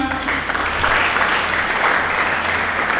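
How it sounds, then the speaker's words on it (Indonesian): Church congregation applauding during a sermon, a steady, dense wash of clapping that fills the room throughout, with a voice faintly present underneath. "Mari kita sambut dengan tepuk tangan."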